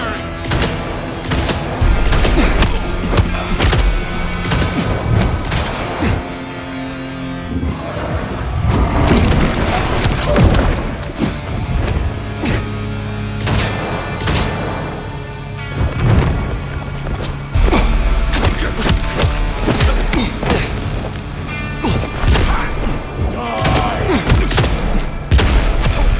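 Rapid volleys of gunfire and booming shots from the Vampire The Masquerade Bloodlines 2 video game, dense and continuous over a loud combat soundscape with brief voice lines.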